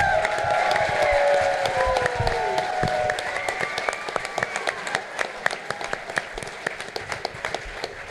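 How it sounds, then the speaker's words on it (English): A live Dragon Con audience bursts into applause with cheers and whoops for Max, loud and dense at first, then thinning into scattered individual claps as it fades. "Give Max a round of applause."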